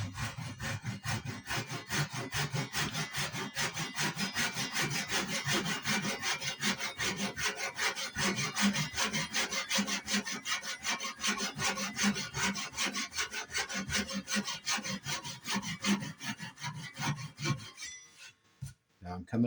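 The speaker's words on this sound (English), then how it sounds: "Just going to use a Japanese draw saw here first." A Japanese pull saw cuts through wood in steady, rapid back-and-forth strokes, loud and close, rasping continuously for nearly twenty seconds while making a hand sled.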